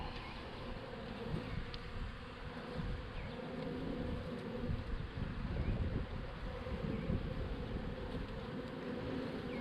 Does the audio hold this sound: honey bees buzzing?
yes